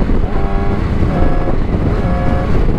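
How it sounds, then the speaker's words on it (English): A motorcycle is ridden in sixth gear, its engine a loud, steady, close drone with wind rush that holds for the whole stretch, no talking. "I'm gonna drive the bike again on 6th gear all the way"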